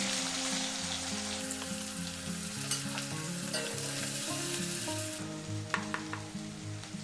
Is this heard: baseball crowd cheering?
no